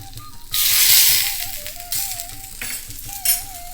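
A hot tempering with curry leaves is poured over onions and stirred, giving a loud sizzling burst that fades into intermittent frying hiss and scraping stirs, with a steady background tone.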